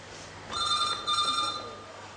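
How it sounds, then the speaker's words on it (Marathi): A telephone bell rings in an indoor room, two close, bright trills with a brief gap between them, starting abruptly and then trailing off. "फोन आहे तुमचा."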